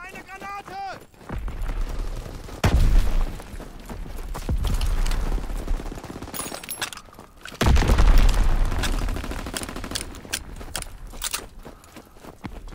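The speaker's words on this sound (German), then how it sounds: "Ich schmeiße eine Granate!" A grenade blast in Call of Duty WWII gives a heavy boom, then a second big explosion follows later, set among rumbling battle noise, footsteps and bits of shouted game dialogue.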